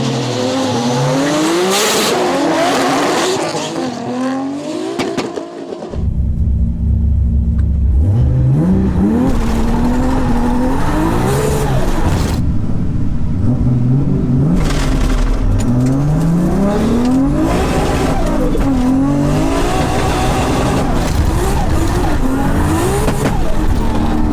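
Toyota Supra drag cars with 2JZ engines launch, with a loud, close blast of high revs and rising gear-shift whines that repeat over and over, cut by a brief drop in the roar before the noise surges back.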